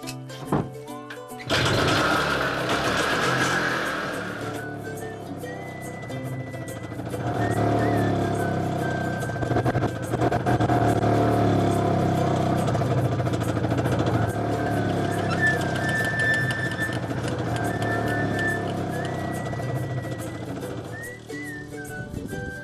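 A motorcycle engine runs steadily after starting near an apiary, a sustained idle with a whining tone that rises and holds, fairly close, with no speech over it.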